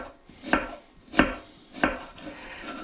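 Onion being chopped on a wooden wild boar tray: three evenly spaced knife chops knock sharply against the wood, close and clear, with quiet gaps between them.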